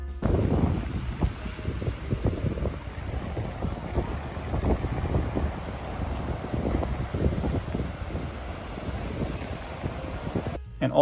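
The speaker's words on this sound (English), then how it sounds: "just seeing the water crash up against the rocks is really relaxing for me" Ocean water surges and crashes against rocks along the shore, a continuous rushing wash heavily buffeted by wind hitting the microphone, with scattered voices in the background.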